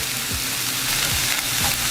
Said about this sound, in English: Once the pan is heated up and the oil is shimmering, we're gonna go ahead with our onion.